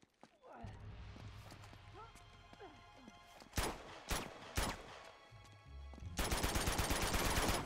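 Gunfire in the action game Uncharted 2: a few sharp, separate shots ring out midway under a speaking voice, then a loud, rapid automatic burst takes over at the end.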